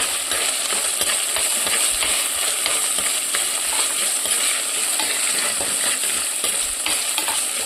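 Fish curry ingredients with soaked kudampuli (Malabar tamarind) fry in a pan, giving a loud, continuous crackling sizzle with faint stirring scrapes and no pauses.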